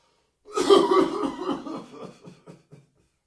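Someone coughs with a handful of flour into the air in front of them, a close burst of several rapid coughs that fades into softer breathy huffs, with no speech.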